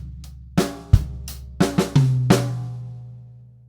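A drum kit plays two beats of a simple groove, then a two-beat fill moving to the high tom, with six or seven crisp hits and a ringing tom tail, close and loud without speech.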